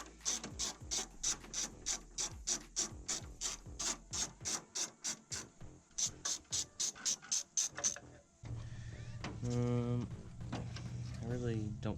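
Hand ratchet loosening 10mm bolts on the broken header panel of a Mercury Grand Marquis, a long quick series of clicking pawl strokes up close, followed by a rattling, rubbing handling noise.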